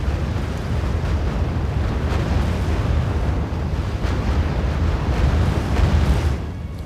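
Continuous heavy rumbling of an artillery barrage in the real-time strategy game R.U.S.E., a dense wash of overlapping explosions and booms with no pauses, loud and steady throughout.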